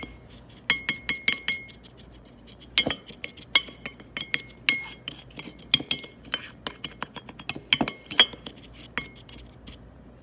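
Salmon ingredients being mixed in a glass bowl, with parsley among them, give a steady run of sharp clinks and taps as a utensil strikes the glass, close and fairly loud with no talking.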